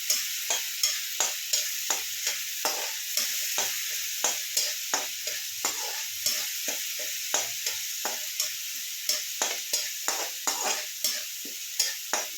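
Garlic and chilli paste cooks in a pan for kadhi, with a soft, constant sizzle under brisk, rhythmic spoon scrapes that repeat about twice a second at close range.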